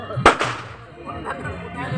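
Firecrackers burst during a morning Chhath Puja gathering: one sharp, loud crack near the start, then a smaller pop and a clattering tail, with crowd chatter and speech around them.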